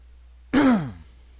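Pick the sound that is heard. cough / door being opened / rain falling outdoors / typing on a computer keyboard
cough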